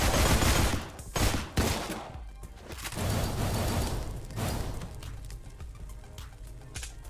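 Gunfire in the video game Deadbolt, with dense bursts of rapid shots at the start that thin into lighter, scattered firing against a loud, busy game soundscape.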